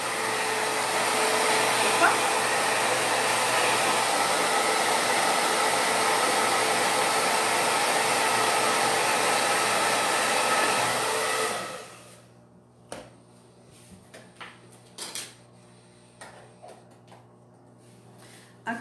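A hair dryer blows loudly and steadily for about twelve seconds while drying paint on a wooden crate, then cuts off, leaving quiet handling taps and faint knocks.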